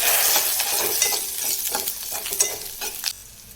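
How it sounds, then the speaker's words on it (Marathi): Ginger and garlic sautéing in a little oil in a pot, giving a close, steady crackling sizzle with repeated soft stirring scrapes that ease off toward the end. "आता त्याच पातेल्यामध्ये थोडंसं तेल घेऊन अद्रक आणि लसूण थोडंसं परतून घेऊया"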